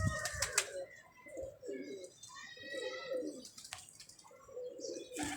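Several pigeons on a rooftop coo nearby in soft, repeated rolling calls, with a few brief chirps and a flutter of wings at the start.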